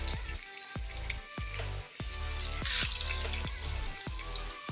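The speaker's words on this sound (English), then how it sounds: "So I'm going to start frying. Putting it bone side down." Seasoned chicken pieces, trimmed of some fat and skin, sizzle bone side down in a hot frying pan, with steady crackling spatter close by and no talk.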